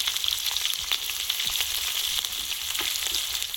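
Dried red chillies, whole cumin and ginger sizzle and crackle steadily in hot oil in a wok, a continuous close frying hiss with scattered pops, no voices.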